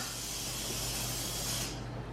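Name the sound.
spray bottle spraying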